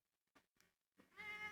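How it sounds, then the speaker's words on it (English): A pet cat gives a few short, quiet meows close by, two brief chirps followed by a longer, clearer meow at the end. "Also, Kotlon has new cat."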